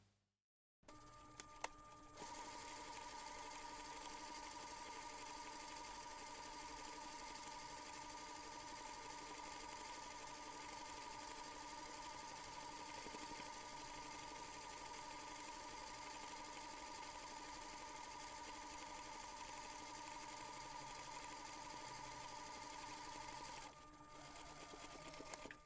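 A home sewing machine stitches a seam on a fabric drawstring pouch, giving a steady, even whir that runs unbroken for over twenty seconds after a brief start, with no talking.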